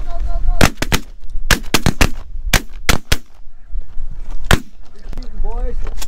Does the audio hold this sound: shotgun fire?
yes